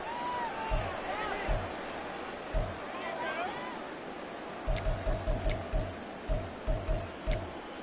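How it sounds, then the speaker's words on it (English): A stadium crowd in the Madden 24 football video game roars steadily in a big reverberant wash, with rhythmic thumping beats joining in partway through. "Listen to this crowd now."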